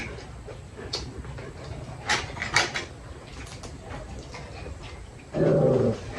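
Dogs barking at a home near the sea, a few sharp barks and yelps clustered in the middle, fairly close, over background noise, followed by a brief low rumbling sound near the end.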